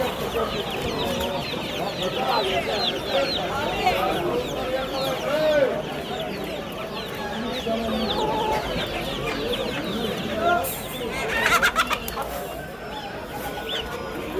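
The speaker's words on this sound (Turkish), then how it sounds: "Civcivler." Chicks chirping at a busy poultry section of a bird market in Bursa, dense continuous peeping and clucking with crowd noise and voices around, fairly close.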